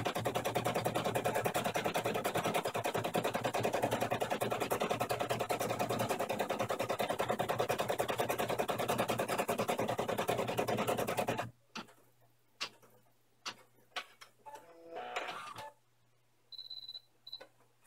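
An embroidery machine stitches an in-the-hoop castle bag project, running as a loud, dense, steady rapid stitching chatter for about eleven seconds before stopping, followed by scattered quieter handling clicks and a brief tone.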